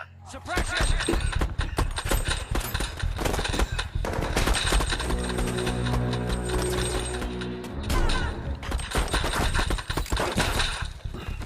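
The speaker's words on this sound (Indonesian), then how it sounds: "mereka tiba-tiba dihadang oleh polisi sehingga terjadilah baku tembak" Film shootout with police, rapid gunfire crackling almost continuously with mechanical clatter, dense and loud throughout, with a voice talking over it.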